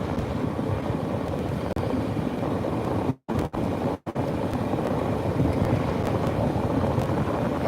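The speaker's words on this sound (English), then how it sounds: "I have the fan blowing on it" An electric fan blows on an overheated phone, giving a steady, loud, rushing whoosh of air across the microphone, broken by a few brief dropouts near the middle.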